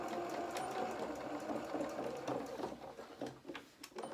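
A sewing machine runs steadily in reverse, stitching the sleeve of a doll's jacket, a continuous close mechanical whir with a rapid needle patter that slows slightly toward the end, with no talking.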